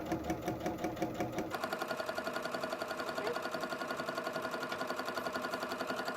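A sewing machine stitches fabric with a 1/4 inch foot, its needle clattering in a fast, even rhythm of rapid repeated ticks, close and moderately quiet, starting up after a brief pause and running steadily.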